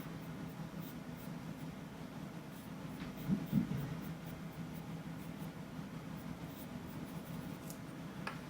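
A soft charcoal pencil scratches and whispers across paper while the eye of a retriever puppy is drawn, faint, close strokes over a quiet room hum, with a couple of slightly louder rubs midway.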